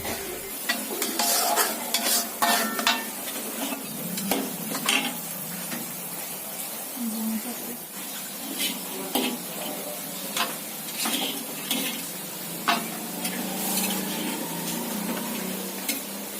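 Seafood stirred in a special sauce at a seaside restaurant in Tarusan, Pesisir Selatan, giving a steady sizzle with repeated scraping and clinking of a spatula against the pan, close and continuous throughout.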